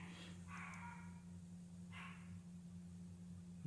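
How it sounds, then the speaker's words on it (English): A dog barks twice, faint and at a distance, with short bursts about a second apart over a steady low electrical hum. "And there goes my dog."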